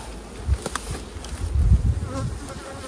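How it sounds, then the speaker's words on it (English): Dense buzzing of many honey bees fills the clip, a steady swarming hum with louder swells as bees pass close. "The older bees are going to fly back home anyway."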